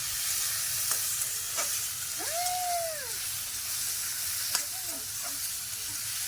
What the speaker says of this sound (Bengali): মশলা দিয়ে একটু ভালো করে ভেজে নেবো